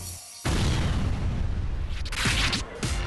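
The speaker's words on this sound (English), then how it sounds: "The explosions usually set up a plume of water 300 to 400 feet high." After a brief quiet moment, a sudden loud underwater demolition blast erupts into a long, heavy roaring rumble that keeps going to the end.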